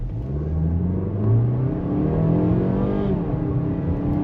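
A 2024 Mazda CX-5 accelerates from 0 to 60 mph in sport mode, its engine note climbing steadily and loudly through the gears with a brief shift dip.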